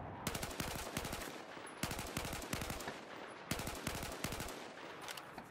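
An M16A4 rifle in Battlefield 4 fires in short bursts, each a rapid tight cluster of close, loud shots, the bursts repeating steadily with brief gaps between them and no talking.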